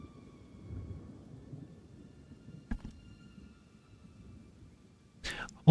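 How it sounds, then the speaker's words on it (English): Distant thunder during a rainstorm, a low faint rumble rolling under soft background noise, with a sharp crack midway and a louder burst near the end, and someone talking in the background. "That's thunder."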